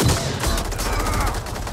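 Gunfire in Mortal Kombat 11, a rapid burst of loud, close shots crackling in quick succession over a short stretch.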